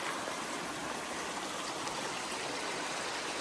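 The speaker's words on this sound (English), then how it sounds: "We're just following the stream up." A stream on the Appalachian Trail flowing past a small pool, a steady, close rushing and gurgling of water that continues without a break.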